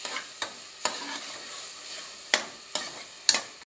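Date payasam simmering on low heat is stirred in its pot with about seven irregular ladle scrapes, close and fairly quiet, with a soft bubbling bed beneath and no talking.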